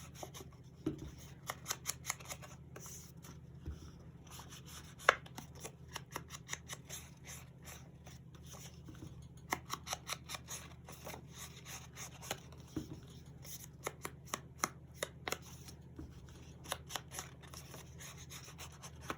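Scissors trim paper for a paper-bag folio journal: a long run of quiet, close snips and light rubbing scrapes in an irregular rhythm, faint over a low steady hum, with no talking.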